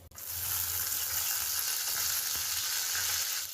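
Steady, loud sizzling of mustard seeds and red chilies frying in hot oil for a tempering, a continuous crackling hiss with no talking.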